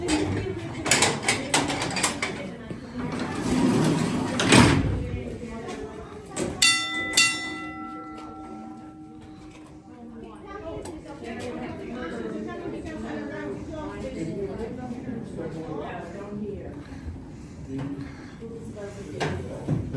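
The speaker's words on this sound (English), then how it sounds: "These are like the original elevators here." An old original elevator descends into the Wieliczka salt mine, with mechanical rattles, clanks and a ringing bell-like tone over steady low rumble while people talk throughout.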